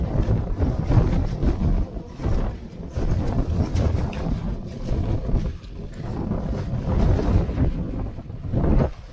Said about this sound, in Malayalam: ഭയങ്കര കാറ്റ് വരുന്നുണ്ട്.